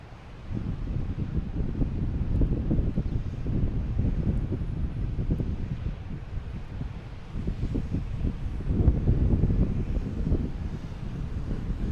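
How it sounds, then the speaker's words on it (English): A JetBlue Airbus A220 departs Boston Logan Airport, its broad low engine roar steady and moderately distant for the full stretch, swelling slightly near the end, with wind buffeting the microphone. "Here's a JetBlue A220 heading to Atlanta."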